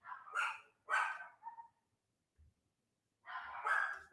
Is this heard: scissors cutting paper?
no